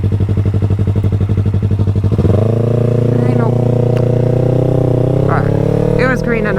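A motorcycle rides along a street at night, its engine droning steadily near the mic, a throbbing idle giving way to a smoother run, with a voice talking over it.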